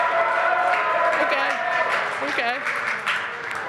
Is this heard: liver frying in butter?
no